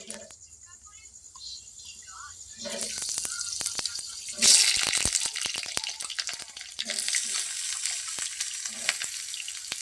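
Potato pieces for aloo dum fry in hot oil in a kadai. The sizzle starts quietly, then jumps into a loud, dense crackle that carries on to the end, with brief clatters now and then.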